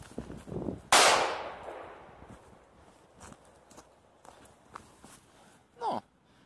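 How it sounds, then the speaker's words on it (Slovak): A Super Delovúch firecracker, a fairly strong one, explodes on a laptop with one sharp, loud bang that decays quickly, followed by faint scattered crackles and a brief muffled thump near the end. "pokračujeme petardou Super Delovúch, ktorá je už trošku silnejšia"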